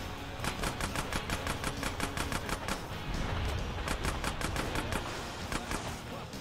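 Rapid bursts of gunfire in GTA San Andreas: Definitive Edition, sharp repeated shots in quick volleys, loud and close, with no talking.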